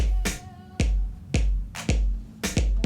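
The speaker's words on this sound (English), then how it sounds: "And now I'm going to put some claps in." Sharp clap samples from a GarageBand drum arrangement, about eight crisp hits in a steady electronic rhythm, each with a short decaying tail. Close and clean, with no voices.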